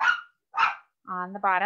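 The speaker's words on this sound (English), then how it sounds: "excuse my dog" A dog gives two short sharp barks close by, followed by a longer whiny yelping vocalization, while a person speaks briefly in between.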